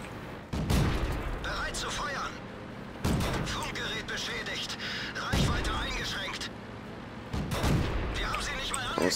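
Tank cannon fire in World of Tanks: four heavy, booming shots spaced a few seconds apart, each with a long rumbling tail, while a voice talks over the battle.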